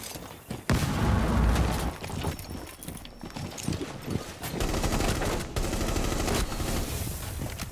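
In Rainbow Six Siege, a Flores drone blows up with a sharp burst near the start, and sustained rapid gunfire follows, loud and dense, with several louder cracks through the rest.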